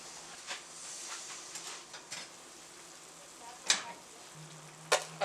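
Okra and carrots simmer in a covered pot of hot water for a Caribbean Creole stew, a low, steady bubbling sizzle broken by a few brief clinks, with no talk.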